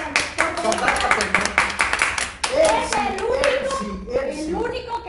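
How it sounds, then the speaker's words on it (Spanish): Audience applause for a doctor being introduced at a public gathering, a dense patter of clapping hands through the first half, then thinning under a voice speaking loudly over the crowd. "Un aplauso"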